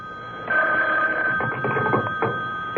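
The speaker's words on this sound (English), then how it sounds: "the phone rang." A telephone rings in a radio drama with a sustained electronic ring tone lasting a couple of seconds, loud and clear over low background sound.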